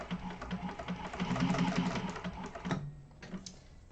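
A sewing machine stitches black thread on black fabric while a bowler bag is made, running steadily with a mechanical whir for about three seconds before stopping, followed by quieter handling noises.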